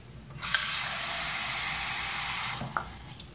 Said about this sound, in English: You fill the clock with water.